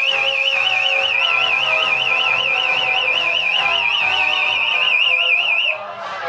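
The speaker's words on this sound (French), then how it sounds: "On s'est loupé un peu l'arrivée du gâteau avec l'alarme incendie" A smoke detector's loud, continuous electronic alarm warbles rapidly and steadily in a high pitch at a wedding reception, with faint voices beneath, then cuts off abruptly near the end.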